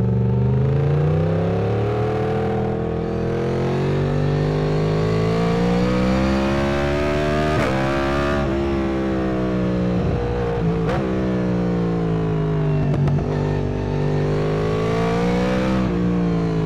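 Yamaha MT-10 SP motorcycle engine revving up and down in repeated rising and falling sweeps, loud and close with a rich harmonic growl and no talk.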